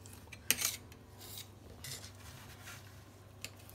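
A spoon clinks and scrapes in a small dish, stirring half a spoonful of black seed into olive oil, with a sharp metallic tap near the start and light, intermittent scraping afterward, close and fairly quiet with no talk.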